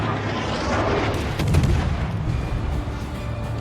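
Naval gunfire from a Tier 1 cruiser battle in World of Warships, a rumbling blend of booming shots and explosions swelling and fading over a continuous low engine-like drone, loud and dense.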